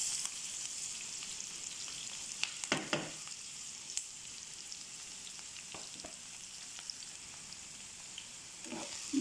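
Onion and garlic fry in a pan with a steady high sizzle, broken by a few brief stirring scrapes and clinks near the middle and the end.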